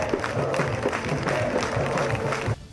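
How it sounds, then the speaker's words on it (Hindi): Women at a citizenship-law protest clap to cheer on performers, a steady run of sharp, fairly close hand claps mixed with crowd noise and some rhythmic beats, stopping abruptly near the end. "कुछ महिलाएं ताली बजाकर कलाकारों का हौसला बढ़ाती नजर आईं"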